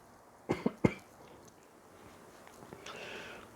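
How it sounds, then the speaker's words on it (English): A man coughs three quick times up close while cleaning a Smith and Wesson 629 Competitor revolver, followed by quiet handling noises and a soft rustle. "oh, excuse me, I got a cough here."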